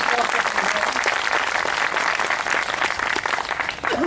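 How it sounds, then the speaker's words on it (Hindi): Loud, sustained applause from an audience clapping for a child at a spiritual discourse, a dense steady wash of hands that dips briefly near the end. "जोरदार ताली इस बच्चे के लिए"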